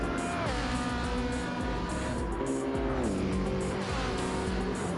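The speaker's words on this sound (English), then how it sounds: "hearing the roar of those engines fly right past me up in this announcer booth" Gr.3 race cars at Spa in Gran Turismo 7 roar past in a steady, loud stream of engine noise, with pitch sliding down as the cars sweep by, and no talk.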